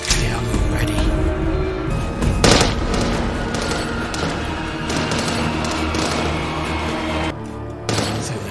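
Gunfire from a Walking Dead episode rattles in rapid, repeated bursts of shots with booming impacts, loud and dense for most of the stretch before a brief lull and a final burst.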